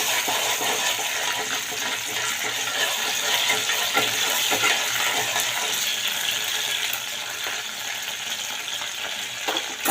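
Cumin seeds and ginger-garlic paste sizzle in hot tempering oil for spinach bhaji with green chilies, a loud, steady frying hiss with scattered crackles and pops running the whole time, no voices.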